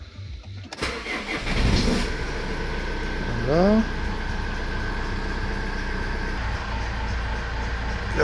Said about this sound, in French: Donc là je vais faire démarrer la voiture.